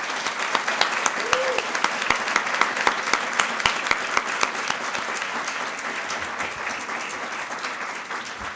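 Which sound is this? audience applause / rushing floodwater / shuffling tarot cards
audience applause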